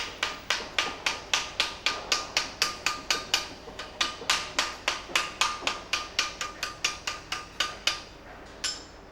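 A hammer forges an iron leaf supported on special tooling, giving about two dozen sharp metallic blows in a steady, even rhythm, close and clear.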